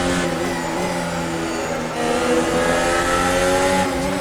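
A 2022 Formula 1 car's engine screams loud and close in the Automobilista 2 racing sim, revving high with a steady harmonic whine that rises and dips briefly as it shifts, then pulls hard again.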